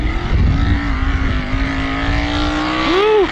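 Race trucks launching in a drag race, a loud sustained engine drone that holds a steady pitch, then swoops sharply at the end as gears change, heard up close and alone.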